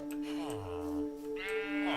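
A sheep in a night siege video game bleats once or twice up close, a wavering nasal cry over a steady hum and soft background noise.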